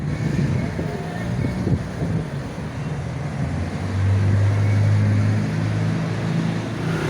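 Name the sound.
street traffic noise in central Ejido, Mérida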